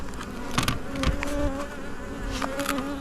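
A caged swarm of honeybees buzzing steadily and close, many wings droning at once with a few individual bees flaring louder as they pass nearby.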